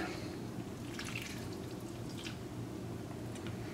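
Special sauce is poured over a Thai-style chicken rice bowl topped with cilantro, giving a steady soft liquid rush with a few faint drips and splashes, close and continuous.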